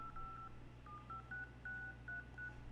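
A quick run of telephone dialing tones on a phone line, about eight short beeps in an uneven rhythm over a low steady hum, faint and close.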